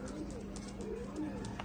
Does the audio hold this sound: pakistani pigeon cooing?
yes